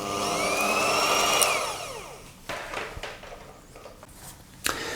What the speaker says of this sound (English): just give it another quick whisk, slow speed, get it all combined